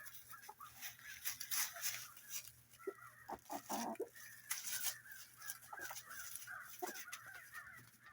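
Young chickens cluck and chirp continuously in a backyard coop, with several birds calling close by in overlapping bursts and no talking.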